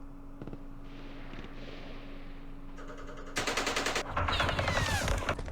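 Gunfire in a Vietnam War video game: scattered single shots early, then dense bursts of rapid fire and a loud crackling volley toward the end, sharp and close.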